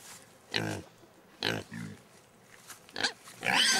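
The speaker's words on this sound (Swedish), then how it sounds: "jävla fina grisar." Pigs on a farm grunting and oinking in several loud bursts, close by, with quiet gaps between them and a short louder grunt near the end.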